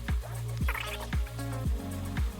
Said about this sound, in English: It's still got a couple of drips in there, but I'm comfortable with how much oil we got out of it.